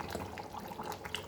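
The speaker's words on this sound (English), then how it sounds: "So I'll add this water also." Water being poured into a cooking pot of Goan pork bafat makes a faint, continuous splashing trickle, heard alone without talk.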